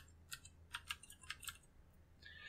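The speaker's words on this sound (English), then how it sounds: "I go to the search part and I type exception" Keys on a computer keyboard are typed in a short quick burst of crisp clicks, close and fairly quiet, followed by a brief pause and a few softer taps.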